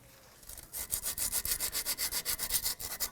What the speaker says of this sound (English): you can use some sandpaper or you can use a bore brush to go ahead and clean this here